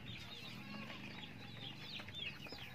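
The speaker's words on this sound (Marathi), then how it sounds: "आणि एक इकडे कोंबडी आहे" Free-range village chickens cluck and call in a fenced farm compound, with several overlapping bird voices at close range against a low background rumble.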